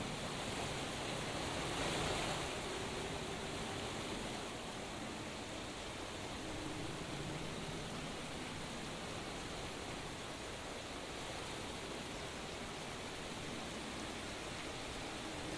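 Rising water in the Roblox Atlantis event rushes in a steady, hissing broadband roar, constant and fairly faint throughout with no pauses or voices.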